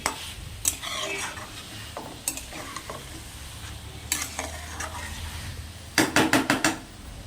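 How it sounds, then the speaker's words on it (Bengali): Soybean curry masala being sautéed in a pan, with a steady low sizzle under repeated scraping stirs of a spatula, ending in a quick burst of sharp rhythmic scrapes near the close. "এরপরে আমি ভালো করে এগুলো কষিয়ে নিচ্ছি"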